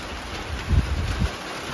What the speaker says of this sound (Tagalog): Ah, it's raining, men.